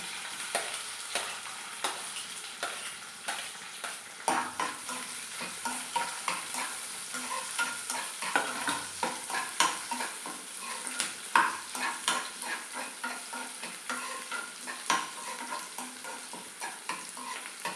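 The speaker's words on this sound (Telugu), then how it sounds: "కరేపాకు వేసుకొని ఆనియన్ వేస్తున్నామండి" Onions and curry leaves fry in a pan for an okra curry, a constant close sizzle broken by frequent stirring scrapes and soft clatters of the spoon against the pan, with no one speaking.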